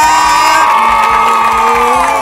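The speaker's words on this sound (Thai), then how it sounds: "ขอเสียงปรบมือดังๆต้อนรับน้องปีใหม่ค่ะ" A live audience at a Thai talent show in Chonburi cheers and claps loudly to welcome a performer. Shouts and whoops ring over the crowd noise, and background music plays throughout.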